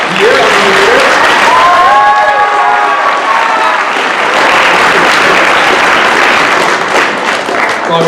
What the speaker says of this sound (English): please give a round of applause to our new mascot here